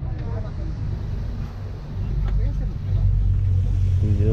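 A small boat heading from Uluwatu to Nusa Lembongan in rough weather gives a loud, steady engine rumble and hull drone that swells slightly midway, with voices talking over it.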